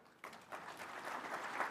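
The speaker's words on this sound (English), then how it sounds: "A round of applause for the Prime Cabinet Secretary." Applause from a conference audience swells after a quiet start into steady, dense clapping from many hands, heard from a distance and sustained to the end.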